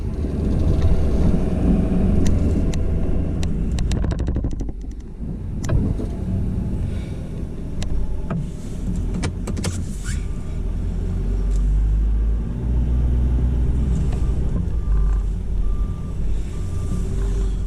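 A truck fitted with a V snow plow clears snow, its engine rumbling loud and close throughout with scraping and clunks along the way and intermittent reversing beeps.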